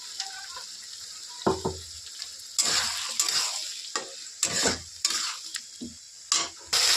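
Water from rinsing a blender jar poured into a spice mixture frying in a pan, bringing bursts of loud sizzling and splashing with stirring scrapes in between.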